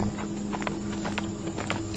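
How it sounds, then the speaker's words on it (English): Horse hooves clip-clopping on an empty street at night in Santa Cruz, a steady series of sharp knocks over a constant background hum, moderately near, with no talking. "you can clearly hear it. Horse hooves."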